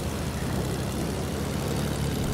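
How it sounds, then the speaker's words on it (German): A propeller airplane engine in a video game roars in an unbroken, dense drone at constant loudness throughout, close and with no talking. "Ich will dich einfach nur mit dem Flugzeug wegrasern."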